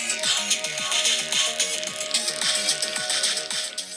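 Music played through a mobile phone's small speaker, a busy rhythmic tune with plucked melodic notes and percussive clicks, moderately loud and continuous.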